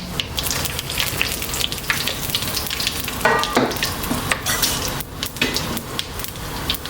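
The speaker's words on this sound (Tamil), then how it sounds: "2 பட்டை தாளிக்கணும், 2 ஏலக்காய், 2 லவங்கம்" Whole spices such as cinnamon sticks, cardamom, cloves, fennel seed and bay leaf sputter in hot oil for a roadside-style veg salna, a steady close crackling sizzle with brief stirring scrapes throughout.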